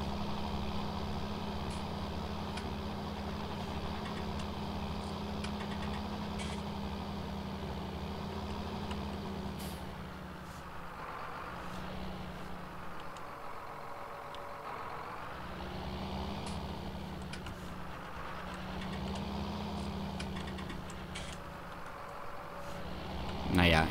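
Tractor engine in the Farming Simulator 19 game, driven back and forth while sowing with a 3 m seed drill: a steady low drone that dips and swells as it turns, with talk over it throughout.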